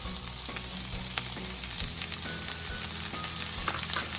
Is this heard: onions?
yes